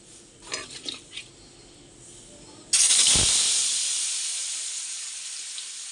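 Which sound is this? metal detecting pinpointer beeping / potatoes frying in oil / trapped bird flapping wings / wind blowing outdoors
potatoes frying in oil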